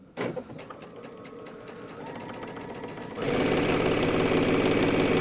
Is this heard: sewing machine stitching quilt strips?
yes